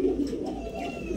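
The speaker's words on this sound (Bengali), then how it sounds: "পাগলায় তো পুরাই ডাকাডাকি করতেছে" Pigeons coo in low, rolling murmurs at close range, a soft continuous burbling from birds kept for sale as breeding pairs.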